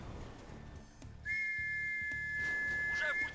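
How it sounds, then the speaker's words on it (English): Rally whistle in a multiplayer war video game on a night raid along a road, a single sustained shrill whistle blast with a short falling chirp at the end, clear and close over low background rumble. "Now we got the whistle at that point, because they're gonna think it's a rally whistle anyway."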